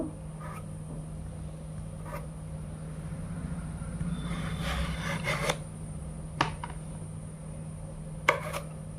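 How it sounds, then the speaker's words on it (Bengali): A knife slicing peeled taro on a board, a few sparse, sharp cuts over a steady background hum, with a brief scraping stretch in the middle. "একটা খোসা ছাড়ানো হয়ে গেছে এবার আমি কেটে নেব"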